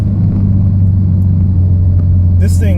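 A 2014 Mitsubishi Evolution MR accelerates under load with a steady, loud low engine drone from inside the car, a brief higher whine or chirp rising near the end.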